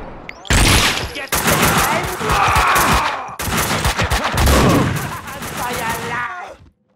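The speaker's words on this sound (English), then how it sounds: "Someone must have heard the gunfire." Bursts of gunfire in the Max Payne 2 video game, several dense volleys of loud, rapid shots fired in quick succession with brief pauses between them.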